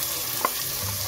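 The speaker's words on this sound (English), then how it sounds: "just have to lightly fry the onion" Sliced onion frying lightly in hot oil over medium heat, a steady soft sizzle with a brief brighter crackle partway through, close and continuous with no voices.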